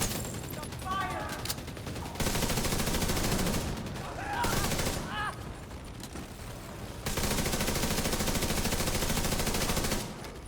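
Marksman rifle fire in a video game, long sustained bursts of loud, rapid shots separated by brief pauses, with faint voice-like fragments in between.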